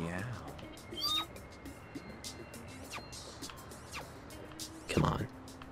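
Cats in the No More Heroes video game meow in a few scattered calls, one loud and close near the end, over low game background noise, while a player talks.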